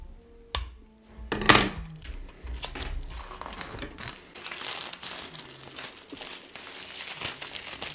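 Crinkly plastic wrap crackles and tears close by as it is unwrapped from a hardcover book, starting with a couple of sharp rips and continuing as steady rustling for several seconds.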